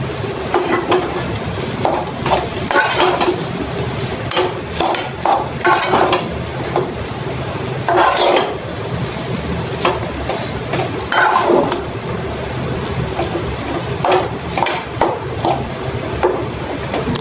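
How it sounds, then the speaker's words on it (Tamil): Cauliflower rice being stirred with masala in a pan, loud close scraping and tapping of a spatula against the pan in an irregular rhythm over a constant frying sizzle, with no voices. "ரைஸை ஆட் பண்ணிவிட்டு நல்லா கீழே இருந்து எல்லா இடத்துலையும் சேர்த்து மிக்ஸ் பண்ணுங்கள்."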